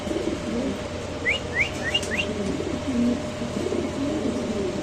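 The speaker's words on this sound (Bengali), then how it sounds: "এখানে আছে এক জোড়া কবুতর না সিরাজি ভাই" Soft pigeon cooing sits in steady background noise, along with a quick run of small chirps midway.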